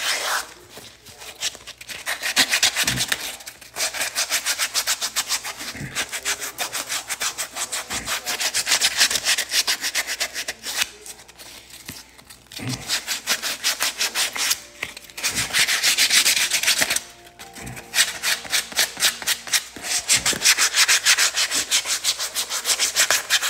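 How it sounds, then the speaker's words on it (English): Sandpaper rubs hard on a custom Vans shoe being made into a bowling shoe, in close, loud scratchy back-and-forth strokes that run in long bursts with brief pauses, no talk. "But you're gonna sand."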